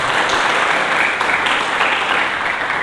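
A church congregation applauds during a Sunday service: a dense, steady wash of many hands clapping together, fairly loud and sustained throughout, with no break.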